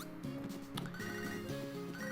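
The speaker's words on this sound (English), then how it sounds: "Of course, I get a phone call from Joey" Pokémon SoulSilver phone ringing: a tonal, warbling electronic ring chime that repeats in short bursts over steady game music.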